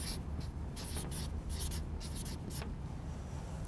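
Pen writing on paper during a fractions lesson, with repeated scratchy strokes in short bursts, close and steady, with no talking.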